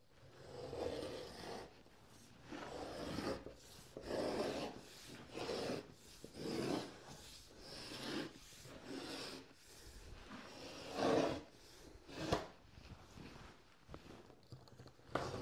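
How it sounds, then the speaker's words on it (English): A knife scores and cuts along the length of a sheet of wood veneer. Repeated close, dry scraping and rasping strokes come in a rough rhythm, fairly quiet, with no talking. "Now I'm ready to cut the length of the veneer."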